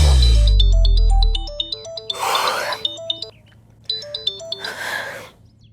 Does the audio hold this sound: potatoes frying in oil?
no